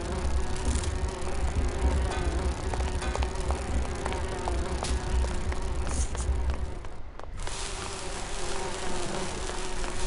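A steady, loud insect-like buzz drones continuously in a Grim Fandango scene on a pier, with faint clicks and a brief dip in the noise near the end.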